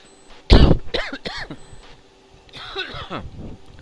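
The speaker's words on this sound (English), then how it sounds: "Forgive me for coughing in your ear." A sharp, loud cough near the microphone, followed by a few smaller coughs and throat-clearing sounds trailing off.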